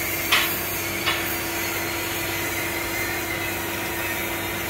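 A machine driven by a 10 HP electric motor with a 3 HP pulling motor hums steadily with a constant motor drone, punctuated by two sharp knocks near the start.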